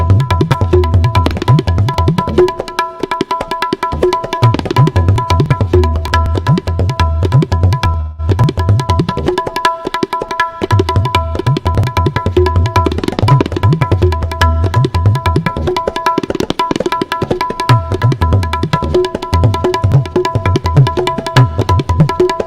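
Tabla plays a qaida composition in a loud, continuous stream of rapid strokes, with deep resonant bass beats recurring in cycles beside ringing pitched treble strokes and a brief pause partway through.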